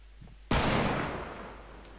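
A single loud hunting rifle gunshot in the video game Fortnite cracks out sharply after a quiet moment, its blast decaying slowly into a lingering tail.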